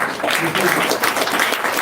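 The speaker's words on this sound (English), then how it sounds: "We'll just clap for everybody" Applause from a seated class at a Gita course session, a brief, steady patter of many hands clapping together at moderate loudness.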